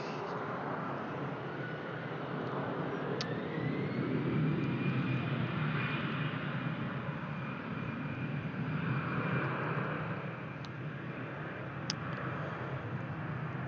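A passenger jet roars steadily at Brussels Airport, a loud continuous engine rush with a faint rising whine, sustained throughout with no voices.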